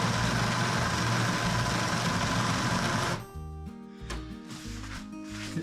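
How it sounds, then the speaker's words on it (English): A power drill drives screws into a wooden workbench, first as a steady loud whir, then as short stop-start bursts while each screw seats. Close up and alone, with no one talking. "So I'm just finishing up here putting the screws in."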